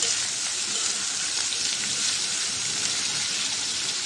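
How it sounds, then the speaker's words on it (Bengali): Spice paste frying with onions in a pan for a ridge gourd dish sizzles loudly and evenly throughout, a close, constant hiss with no talking. "নিচে একটু লাড়াচাড়া দিয়ে দিই, পেস্টটা পুড়ে যাবে আরও।"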